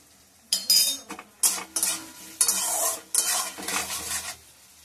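A metal spoon scrapes and stirs in a cooking pan as tomato is added to a hilsa fish curry, several separate bursts of stirring with a faint sizzle underneath.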